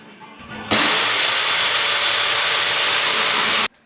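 A power tool cuts metal pieces for a lightweight van bed frame, a loud, steady high-pitched grinding whir that starts abruptly and runs continuously for about three seconds before cutting off.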